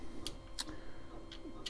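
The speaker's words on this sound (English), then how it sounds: "In the background, you hear my other printer going" A 3D printer runs faintly in the background, its quiet ticking clicks spaced irregularly over a low, steady hum.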